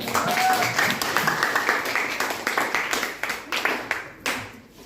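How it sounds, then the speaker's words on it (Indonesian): A classroom group claps for a presenting team, a steady patter of many hands that swells and then thins out near the end, with voices talking over it. "Aplaus buat kelompok 2."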